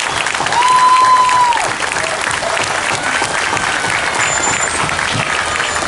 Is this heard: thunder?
no